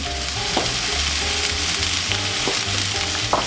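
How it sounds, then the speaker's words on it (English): Shrimp and clams searing in a hot pan for paella negra, a loud dense continuous sizzle with a few brief clicks of utensils, close and unbroken. "when my shrimp is nicely seared, I'll set it aside"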